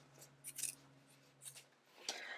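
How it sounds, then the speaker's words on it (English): Scissors snip fabric close to the stitching line while a camisole is sewn, giving a few quiet, crisp cuts close by against soft background hum. "I'm just going to clean up this edge by snipping as close to my stitching line as possible"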